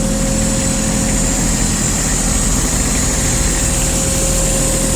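A Kubota Aste A-155 tractor engine idles steadily and evenly, with a constant close-up drone and no voices over it.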